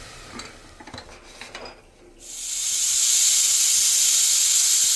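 After light clinks of utensils, a pressure cooker cooking chicken curry lets out a loud, sustained hissing whistle that holds steady to the end.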